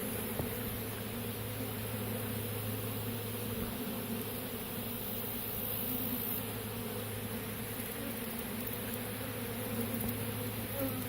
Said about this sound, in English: Standing in the middle of a swarm.